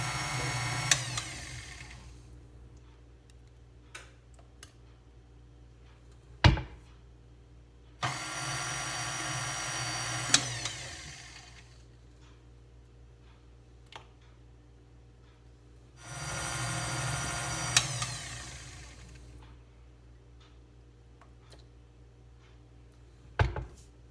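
An electric mixer beats pumpkin Bundt cake batter as eggs go in one at a time. It runs in three bursts of a few seconds each, with quiet gaps and a few sharp knocks between them, and no voices.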